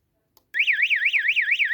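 An electronic alarm siren starts abruptly after a moment of quiet, wailing up and down in a fast, steady cycle, loud and close.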